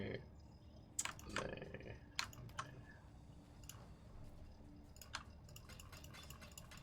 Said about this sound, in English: this is what a English keyboard sounds like. You can if you listen out, you can hear the accent in the clicks and the clacks